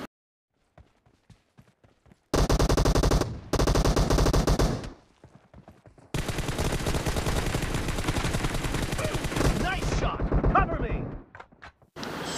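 Automatic weapon fire in a mobile shooter's TDM match rips out in loud, dense sustained bursts after a few quiet clicks, with one brief pause and then a long continuous volley that tapers off near the end.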